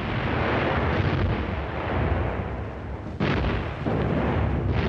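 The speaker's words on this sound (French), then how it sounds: "Les canons allemands écrasent les positions ennemies." German artillery guns firing in World War II, a dense continuous rumble of heavy blasts and booms with a sharper burst near the middle, loud and close, no voices.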